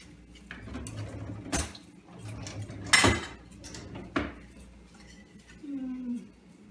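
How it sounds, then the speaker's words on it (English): A whisk works steak gravy made with milk in a pan, giving uneven metallic scrapes and clinks close by, with a few louder knocks against the pan. "you could use a whisk on this."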